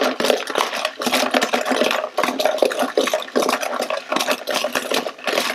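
Die-cast metal toy fighter jets clatter and rattle continuously in a bucket, a busy, close jangle of metal pieces knocking together.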